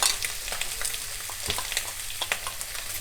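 Pork oil sizzling in a hot frying pan before pork ribs go in, a steady dense crackle and spit that is loud and close, with occasional louder pops and no voices.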